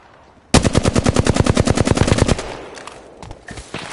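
Automatic gunfire in a PS4 shooter game: one loud, fast, steady burst of rapid shots lasting about two seconds, followed by a few faint scattered clicks and pops.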